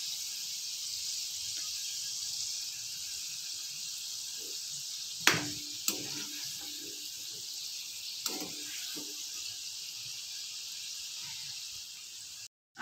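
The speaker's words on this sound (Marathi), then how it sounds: "आपल्याला मोदक छान क्रिस्पी होईपर्यंत तळून घ्यायचे।" Wheat flour modak deep-fry in hot oil with a constant, close bright sizzle and hiss, broken by a few sharp clinks of a utensil against the pan.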